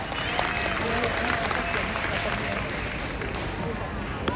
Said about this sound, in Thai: ปรบมือดังๆให้กับเจ้าสาวแสนสวยของเราอีกครั้งหนึ่งครับ